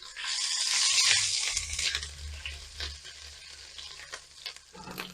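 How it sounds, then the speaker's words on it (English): Ginger sizzles loudly as it fries in a pot for homemade ramen soup: a dense, steady crackle with a few stirring scrapes, easing slightly toward the end, with no voices. "throw the ginger in there. Let that get nice and fragrant."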